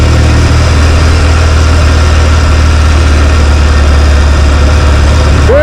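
A 1974 Norton Commando motorcycle engine runs steadily at a loud, close idle, with a deep low rumble and constant vibration throughout, without any talk.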